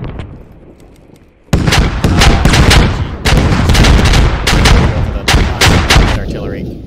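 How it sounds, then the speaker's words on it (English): Artillery fire in the Squad video game, with a quiet lull broken by a sudden barrage of loud, closely spaced blasts and booming impacts that continue in irregular bursts until the end. "Artillery."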